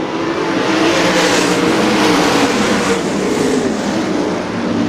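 410 sprint cars race on a dirt track at Butler Battlegrounds in Quincy, Michigan, producing a dense, continuous engine roar from the pack that swells slightly as the cars pass, with no talk.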